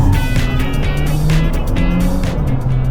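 A car slides along the road, with a steady loud engine and road roar and tire squeal that rises and falls throughout the short stretch, with no voices heard.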